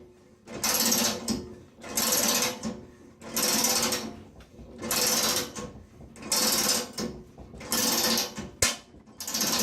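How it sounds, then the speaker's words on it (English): Loud mechanical grinding and ratcheting in repeated bursts as a hole punch cutter snaps through metal, about five or six cycles with short pauses between, close by. "that's the sound of the cutter actually cutting the metal, finishing cutting the metal."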